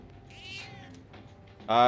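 A cat in the Persona 3 Reload video game lets out a couple of soft, close meows, followed by a sudden louder tonal game sound at the end.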